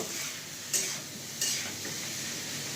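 Pasta spices fry gently in a pan, a soft steady sizzle with two brief louder scrapes of stirring, close and without talk.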